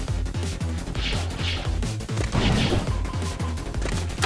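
A crush gun firing in the video game Choke Point, a rapid, relentless stream of loud, punchy shots with heavy low thumps and crashing impacts, close and continuous.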